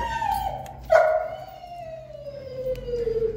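An injured dog tied on a chain whines in a long high, falling cry, loud and close, with a brief yelp near the start and faint background noise.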